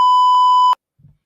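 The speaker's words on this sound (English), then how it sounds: "I ended the segment with a beep." A single loud, steady electronic beep tone ending a show segment, held for under a second and cut off abruptly, followed by a faint low thump.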